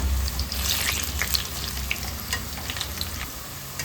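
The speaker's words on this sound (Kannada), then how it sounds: "ಬೆಳ್ಳುಳ್ಳಿ ಈ ರೀತಿಯಲ್ಲಿ ಫ್ರೈ ಆಗಬೇಕು" Garlic fries for a tomato pickle in a pan, a loud steady sizzle with dense crackling pops close by throughout, with no speaking voice.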